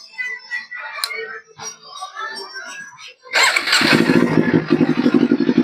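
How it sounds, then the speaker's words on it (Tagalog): A Kawasaki Z500 motorcycle fitted with an SC Project Cone exhaust and a 51mm connector elbow fires up after someone speaks, then settles into a loud, close, throbbing idle with a rough pulsing beat. "SC Project Cone mga boss, sound check tayo para sa Kawasaki Z500"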